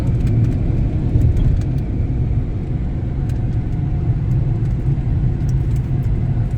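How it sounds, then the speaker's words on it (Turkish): Village minibus traffic in Trabzon, a continuous loud rumble of vehicles passing close by with faint higher clicks over it. "Bunlar da köy dolmuşları bu arabalar."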